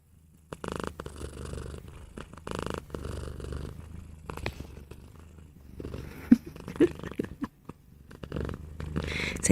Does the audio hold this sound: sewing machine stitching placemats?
no